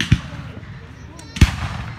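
Two fireworks thump and boom outdoors roughly a second apart, the second louder and closer, with a faint crackle between them and voices in the background.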